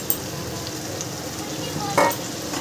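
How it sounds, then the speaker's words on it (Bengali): Fried prawns sizzle in spice masala in a pan, a steady close frying hiss broken by a couple of brief scraping stirs, with no one talking. "চিংড়ি মাছটা দিয়ে একটু নাড়াচাড়া করে নিই।"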